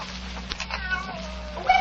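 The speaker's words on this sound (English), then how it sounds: "Where you come from, you stupid cat? Go away." A cat meows in a radio drama, with a few short, clear, close mews in quick succession over a quiet background, without speech.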